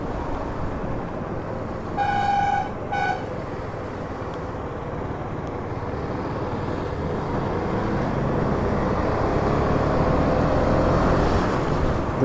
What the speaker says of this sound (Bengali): সাইড দিয়ে দিল বিএসআর গাড়ি